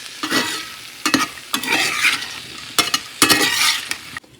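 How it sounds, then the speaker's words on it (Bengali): Potatoes and broad beans sizzle in a hot pan while a spoon stirs them in repeated scraping bursts, the frying hiss continuous underneath, close and moderately loud. "শিম দিয়ে আলু ভাজা করছি"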